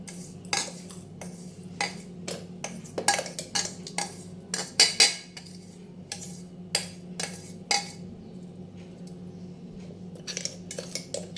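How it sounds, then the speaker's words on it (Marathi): A spoon scraping finely ground Oreo biscuit powder out of a mixer jar into a large bowl, giving a long run of scattered metallic clinks and taps, near and fairly quiet over a faint steady hum. "मिक्सरला बारीक केल्यानंतर आपल्याला ह्याला काढायचं आहे एका मोठ्या बाउलमध्ये"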